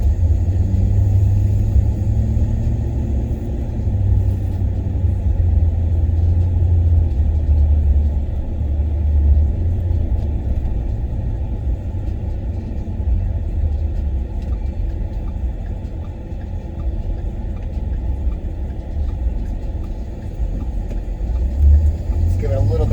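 Steady low engine rumble from a 2010 Ford F-150 Harley-Davidson pickup while driving, with light throttle on a cold transmission; the drone holds constant and close throughout, with a person talking over it.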